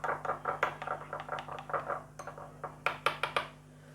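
Spices stirred into yogurt in a bowl for a home biryani, a spoon giving steady rhythmic scraping and clinking strokes against the bowl, close and fairly loud, ending in a few sharper taps.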